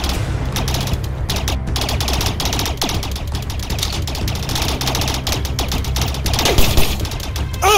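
Gunfire crackles in the Rec Room video game, a rapid fusillade of close, loud shots rattling steadily over a busy mechanical background, with no voices.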